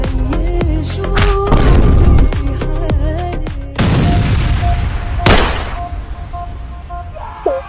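Gunfire and explosion sounds from a comedic war skit, a rapid series of loud sharp bangs and booms with one big blast partway through, followed by a lingering high tone as the noise dies away.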